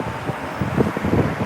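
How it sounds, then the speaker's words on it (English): Gusty wind in Tokyo after a typhoon has passed, a loud rumbling buffet against the microphone with uneven surges, with no other clear sounds. "A little windy."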